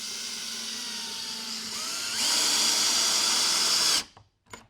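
A power drill whines steadily, rising in pitch and strain as it drives a screw into a wooden board while mounting a TV, then cuts off, followed by a couple of brief clicks.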